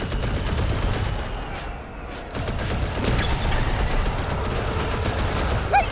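Rapid blaster fire from LEGO Star Wars: The Skywalker Saga, a loud, dense run of repeated shots sounding nearly nonstop with one short lull in the middle.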